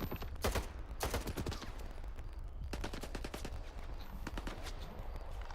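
Gunfire in the shooter game STALKER 2: several sharp shots and quick bursts, some in rapid clusters, over a continuous low background rumble, moderately distant and fairly quiet, without speech.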